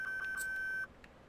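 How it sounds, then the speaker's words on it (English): In the game, a high electronic beep like a backup alarm sounds as one sustained tone with faint clicks, then stops abruptly, leaving quiet ambience and no talk. "where's somebody got a backup alarm? If you hear that beeping."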